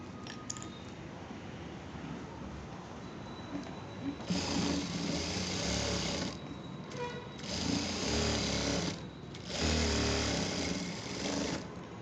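Sewing machine stitching the side seam of a blouse, running in three sustained bursts of whirring with short pauses between them, over steady low background noise.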